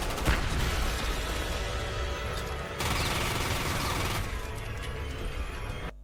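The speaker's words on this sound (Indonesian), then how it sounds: "terdengar suara tembakan" Dense, continuous bursts of gunfire roar for several seconds, loud and relentless like a movie firefight, with no pauses between volleys.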